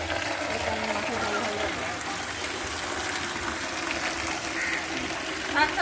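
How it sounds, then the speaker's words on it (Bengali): Tap water gushes steadily into a basin for a bath, with a continuous splashing rush under nearby talk. "কল চালা, কল চালা।"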